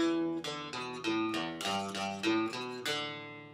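Solo guitar plays two bars of Hey Jack with steady plucked notes, close and clear, each note starting crisply. No one speaks over it.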